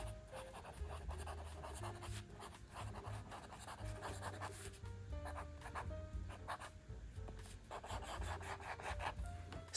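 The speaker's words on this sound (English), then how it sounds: "there is a sound to it when you write with a nib on the paper" A fountain pen nib scratches across journal paper in soft, close strokes, a faint dry rasping that comes and goes in short bursts over quiet background music.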